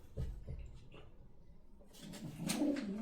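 Racing pigeons cooing in a loft, soft low coos from nearby birds at first, then a louder rustle and flutter toward the end, fairly quiet overall.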